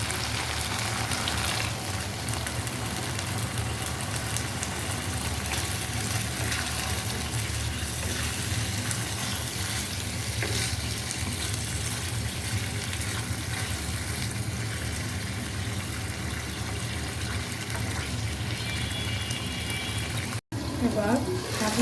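Water gushes steadily into a pot of browned chicken biryani meat on the stove, a loud, continuous rushing wash that lasts throughout with a faint sizzle underneath. It breaks off briefly near the end.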